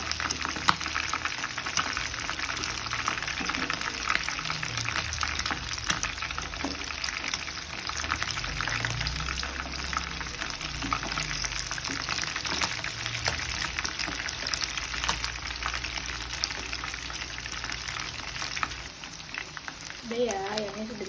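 Chicken pieces fry in hot oil in a pan until crisp, a steady close sizzle and crackle running throughout, with a voice speaking over it.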